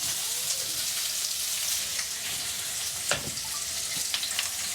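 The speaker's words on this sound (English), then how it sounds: "So you want to cook the carrots and the onions for just a few minutes, just until the onions start to turn clear." Carrots and onions fry in a pan for lo mein, a continuous bright sizzle with occasional crackles and a few stirring scrapes, close and steady with no voices.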